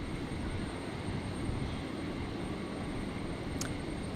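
An aircraft at Brisbane International Airport on a stormy night rumbles steadily in the distance, a broad, even roar with no voices.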